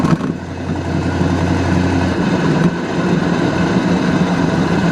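A 1969 Oldsmobile 442 with a 455 V8 and automatic transmission idles steadily as it warms up, a low continuous rumble heard from inside the car with a faint hum fading after the first two seconds.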